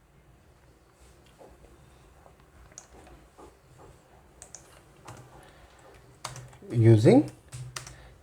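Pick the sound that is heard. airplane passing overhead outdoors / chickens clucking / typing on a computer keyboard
typing on a computer keyboard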